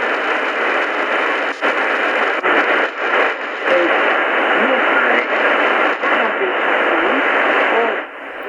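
A Prunus J-81S solar AM/FM shortwave radio picks up a station only faintly through a thick wash of hiss and static, with a distant broadcast voice barely audible beneath the noise.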